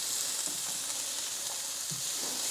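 Onions and red bell peppers frying in a pan, a steady soft sizzle with faint stirring clicks, close and continuous with no talk.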